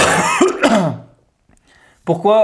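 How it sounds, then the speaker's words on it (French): A person coughs and clears their throat in short rough bursts, followed by a pause and then another harsh, throaty outburst. "je suis pas malade, mais je tousse et tout"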